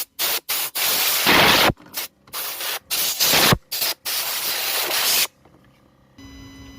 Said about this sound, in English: I'm just going to blow out all of the dust from around where the glow plugs are